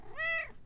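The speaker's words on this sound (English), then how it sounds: "Come on, hit me with a meow, Despy." A single cat meow played from a soundboard in a game, clear and close, a rising then falling harmonic cry lasting about a quarter second, with no talk over it.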